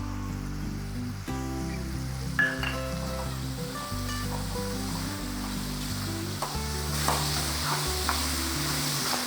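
Tomatoes sauté in a pan for tomato chutney as grated coconut is added, giving a continuous moderate sizzle with occasional stirring over a steady low droning hum.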